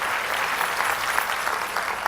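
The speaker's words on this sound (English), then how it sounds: "give your hands a round of applause" A convocation crowd claps steadily in a large hall, the applause loud, close and evenly textured for the whole stretch.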